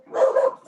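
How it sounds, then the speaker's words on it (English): A single short dog bark, close and moderately loud, standing alone in a quiet room during a zoning board meeting. "The dog wants to participate."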